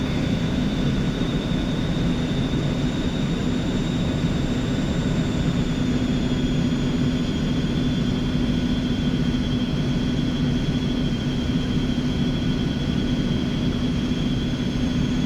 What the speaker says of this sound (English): This is a very small aircraft with almost underpowered engines, so the climb speed on this thing isn't that great.